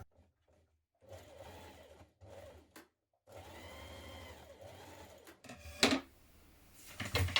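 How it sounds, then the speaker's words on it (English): A sewing machine stitches jumpsuit facing pieces together in short bursts, then a longer steady run of whirring needle strokes, followed by sharp clicks and handling noises. "we're going to stitch them together at the centre front point below the small dot here"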